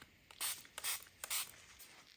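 Ink spray for crafting spritzed in three distinct bursts, each a short hissing puff close by with brief pauses between, plus a fainter fourth puff at the end.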